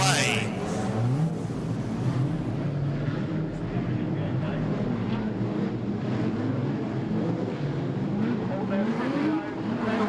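A street stock race car pulls away under yellow lights at Adelaide Motorsport Park, its engine droning and shifting pitch steadily throughout, heard beneath continuous race commentary.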